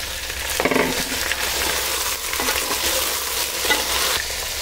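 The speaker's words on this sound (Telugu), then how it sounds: "ఇది బ్రౌన్గా వేగే వరకు వేసుకోవాలి" Chicken biryani base frying in a pan until brown, with a continuous close sizzle and repeated scraping stirs of a spoon against the pan.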